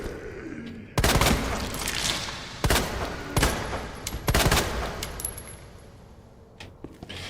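Gunfire in the Resident Evil 2 Remake video game: several sharp, loud shots in separate bursts spread through the stretch, each dying away quickly over a low, dark ambient bed, with no talk.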